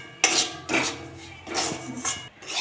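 Semolina stirred in melted ghee in a wok, with a sequence of loud scraping and clinking strokes of a utensil against the metal pan, spaced irregularly and close up.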